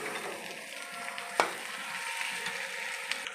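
Kashmiri aloo dum, potatoes browning in spiced oil in a pan, gives off a soft, steady sizzle with one sharp clink of a utensil partway through, faint and close with no talking.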